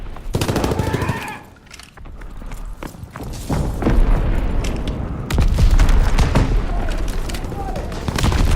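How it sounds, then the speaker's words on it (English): A thrown grenade in a Call of Duty multiplayer match booms among bursts of machine-gun fire, with loud, chaotic battle noise throughout and voices mixed in. "Tossing a grenade!"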